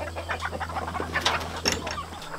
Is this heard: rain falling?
no